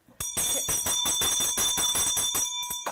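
A bell rings nonstop for about three seconds, loud and close, its bright sustained tone pulsing with rapid repeated strikes before cutting off.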